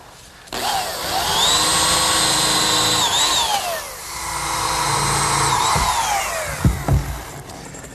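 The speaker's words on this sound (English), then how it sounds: "Now pre-drill for some screws." A power drill bores pilot holes for screws in wood for a picnic table, two sustained whining runs with pitch dips as the bit bites, then a couple of short knocks at the end.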